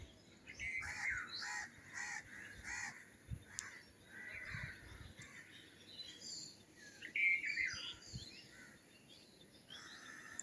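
Crows caw repeatedly in short, fairly clear bursts around a house with trees nearby, mixed with lighter bird chirps, moderately near against a quiet background.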